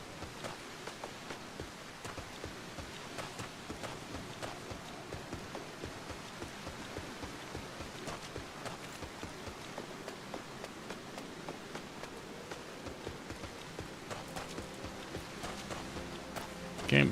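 Steady rain pours in the Final Fantasy XIV game world, a dense, even hiss with scattered pattering drops running throughout, fairly quiet and without voices.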